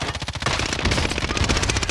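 Rapid automatic gunfire in Call of Duty, a loud, fast rattling stream of shots with a brief pause before continuing steadily, close and dominant, with no talking.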